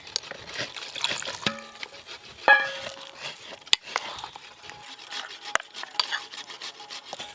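Semolina batter for bowl-style bhapa pitha being whisked in a bowl, a quiet repeated scraping and wet rubbing with occasional sharp clinks of the utensil against the bowl's rim.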